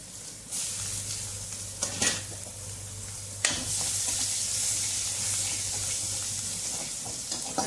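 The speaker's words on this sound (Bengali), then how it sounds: "গরম হয়ে গেছে, তেলে ফোড়নে দিয়ে দিচ্ছি কালো জিরে ফোড়ন দিয়ে দিচ্ছি। এবার দিয়ে দিচ্ছি রসুন, সেদ্ধ করা রসুন দিয়ে দিচ্ছি।" Black cumin seeds and boiled garlic hit hot oil for tempering, producing a close, continuous sizzle broken by a few sharp bursts as ingredients drop in and are stirred, with no voices.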